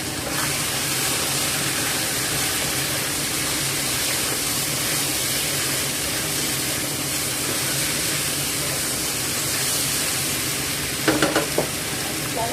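Onion sizzles steadily in a hot pan for a chicken stir fry, a loud continuous frying hiss with occasional stirring clatter near the end.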